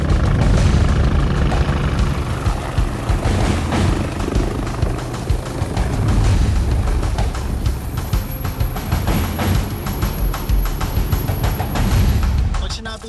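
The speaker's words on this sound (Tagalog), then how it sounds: "muling bumalik ang Navy helicopter para sa natitirang pasyente" A Navy helicopter returning at sea to pick up patients: a loud, close, continuous rotor and engine roar with rhythmic thumping throughout, with voices under it.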